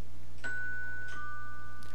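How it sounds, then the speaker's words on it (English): Two-tone electronic doorbell chime in the video game Everlasting Summer, a clear ding followed by a second tone, over a steady low hum. "Someone ring the doorbell."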